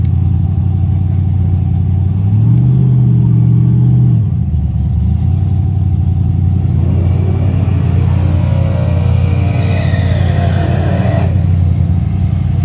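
A powerful Chevy race car engine revs up in a rising whine, then drops back to a deep rumble before climbing again in a second loud rev.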